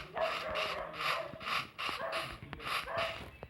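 Dogs bark over and over in a quick, steady rhythm, fairly loud and close, each bark following the last with hardly a pause.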